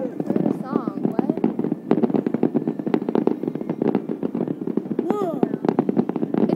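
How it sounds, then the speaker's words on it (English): Fireworks at a 2012 display pop and crackle in rapid, dense bursts with sharp cracks and fizzing, fairly close and loud, while people talk excitedly throughout. "Jake, you're missing the fireworks."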